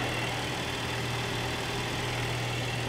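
A GMC Acadia's 3.6 V6 idles with the hood open, a steady low hum and broadband whir held close and constant with no talk over it.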